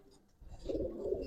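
Pigeon of an old colouring breed cooing close by, a short low throaty coo rising after a quiet start and holding briefly.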